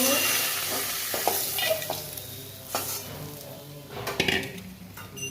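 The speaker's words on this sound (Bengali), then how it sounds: "মরলা মাছ ভেজে নেব" Small mola fish frying in mustard oil in a pan, a steady close sizzle with scattered clinks and stirring scrapes throughout, no voices.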